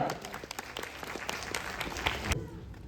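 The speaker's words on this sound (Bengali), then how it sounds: "একটা জোরে হাততালি হয়ে যাক।" Loud audience applause fills a municipal hall during an award show in Alipurduar, steady dense clapping throughout with a sharp drop near the end.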